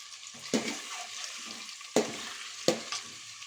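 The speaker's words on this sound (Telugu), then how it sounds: "ఎగ్స్ అన్ని ఫస్ట్ ఫ్రై చేస్తున్నాం అనమాట" Eggs frying in a pan with salt and turmeric, a continuous soft sizzle broken by three sharp knocks or scrapes of a utensil, close and moderately loud, no talking.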